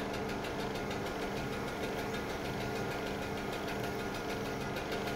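A motor-driven potter's wheel, geared with scooter gears and a fan gear, is used to throw large 30-litre clay water pots. It gives off a steady, continuous mechanical whir and hum at moderate level, with no one speaking.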